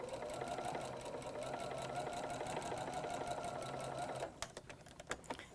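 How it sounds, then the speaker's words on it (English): A sewing machine runs steadily, stitching corner to corner along a marked line on quilt fabric for flying geese units, close and quiet, ending in a few sparse clicks as it stops. "Sew directly on the marked line. And you'll sew from corner to corner."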